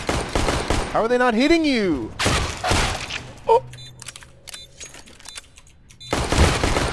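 Pistol shots crack in a video game firefight, several sharp reports spread between excited voices talking over the action.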